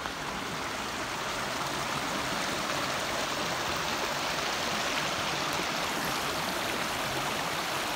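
Stream water flows steadily over logs in a continuous broadband rush, moderately loud and close, with no voices.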